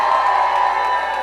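Dense roar of a wrestling crowd in an arena, steady cheering and shouting across the whole moment with no letup, loud and close.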